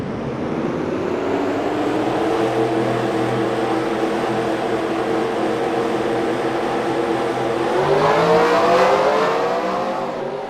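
Simulated race cars of an MFNSRA Avis Cup field roll off at the Hartlepool 400, a steady layered engine drone that swells with rising revs toward the end, loud and continuous with no talk.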